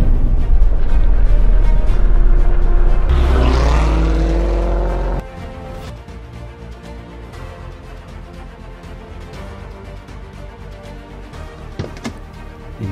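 A car engine roars loudly for about five seconds in a TV advert for the Chrysler 300 luxury car, then drops to a quieter steady hum with music-like background for the rest.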